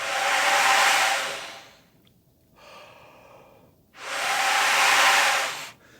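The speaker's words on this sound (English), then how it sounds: "Let's take the mouthpiece off the trumpet, put the lead pipe in your mouth like this, and just blow through." Two long, breathy rushes of air blow through a trumpet lead pipe with the mouthpiece removed, each a loud, close hiss lasting about two seconds, separated by a quiet inhale.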